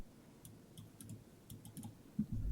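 Light clicking on a computer keyboard as the F12 key is pressed, a series of faint quick taps followed by a slightly louder knock, with no voices.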